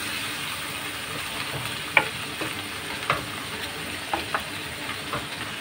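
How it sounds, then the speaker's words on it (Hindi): Masala frying in a pan with ginger and garlic gives a steady soft sizzle, broken by a few light stirring knocks and scrapes. "खूब अच्छी इसकी भुनाई करेंगे अदरक और लहसुन में"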